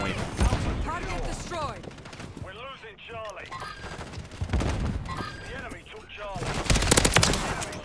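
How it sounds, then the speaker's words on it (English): Bursts of gunfire in the shooter Modern Warfare 3, sharp repeated shots and automatic volleys scattered across the clip, loud and close, mixed with in-game voices and chatter. "I just shot the fucking guy and then looked away."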